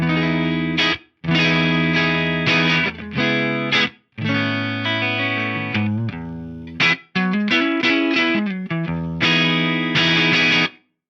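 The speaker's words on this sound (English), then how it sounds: "This is my straight up dry guitar sound." Electric guitar playing clean, dry chords and melodic phrases with no effects through an Eventide H9, in short bursts separated by brief pauses, loud and close.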